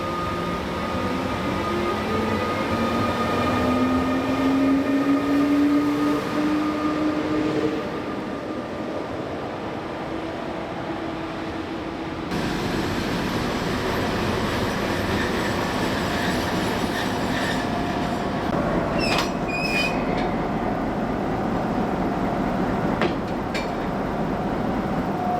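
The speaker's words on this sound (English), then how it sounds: "here our Taurus locomotive is going to be leaving us" Rumbling train noise on the Silva Nortica route at České Velenice border station as the Taurus locomotive uncouples, steady rolling and clatter with a brief rising squeal early on and a few sharp metallic clanks near the end.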